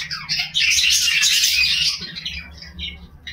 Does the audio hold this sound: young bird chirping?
yes